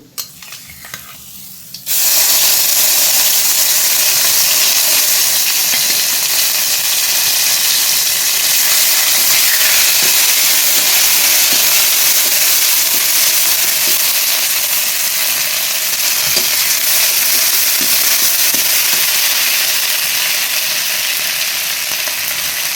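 A ground paste of onion, ginger, garlic, cumin and garam masala hits hot oil after a brief quieter moment, bursting into a loud, dense, close sizzle that roars on without letup.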